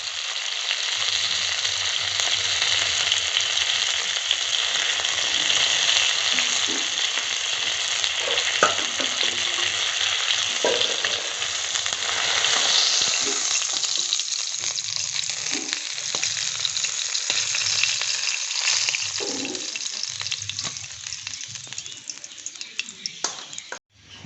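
Tilapia fish fries in oil with a steady, broad hiss and crackle running throughout, loud and close, with occasional clinks and stirring sounds, and faint low voice-like hum underneath.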